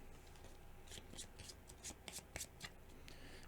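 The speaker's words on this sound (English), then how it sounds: "Shuffle those into our deck." Game cards for Marvel Champions are shuffled into a deck by hand, giving soft riffling and papery flicks in short bursts, quiet and close with no talking.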